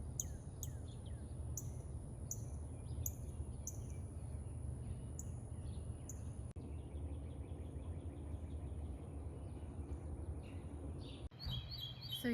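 Small birds chirp and call repeatedly around a compact metal lighthouse-style feeder outdoors, with bright, fairly clear tweets over a steady low background rumble and a soft hum of insects.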